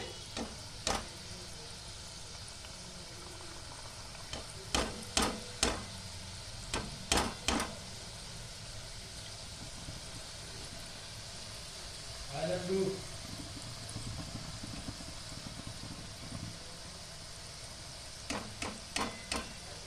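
Boondi, drops of gram-flour batter, frying in hot oil with a steady soft sizzle, punctuated by repeated sharp taps in small clusters and a brief murmur of voice midway.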